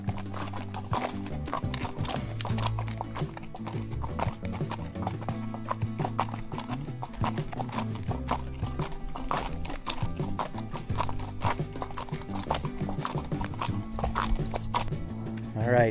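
Horses walk along a trail with steady, rhythmic hoof clops close by, going on throughout, while a person talks now and then over the footfalls.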